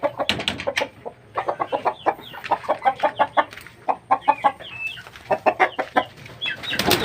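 Two-month-old turkey chicks mixed with a single chicken on a farm, giving a busy run of rapid peeps and clucks in quick bursts, close and fairly loud, with short gaps between clusters and no talking.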